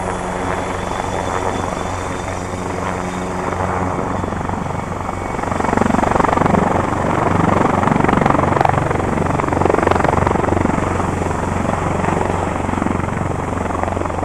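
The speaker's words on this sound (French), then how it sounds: "Ah, attendez, il y a un hélicoptère." A helicopter passes overhead with a steady rotor thump and engine drone that swells louder midway, heard clearly with no one speaking.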